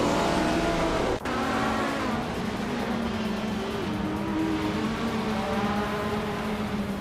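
A vintage 1982 Ford Mustang and rival race cars pull away from the start at Queensland National in a racing video game, a steady loud engine drone with one brief sharp break early on, then sustained revving.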